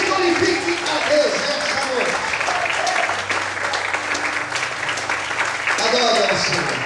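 Church congregation applauding the Lord at a Portuguese-language worship service, sustained dense clapping from a crowd throughout, mixed with voices and shouts of praise underneath.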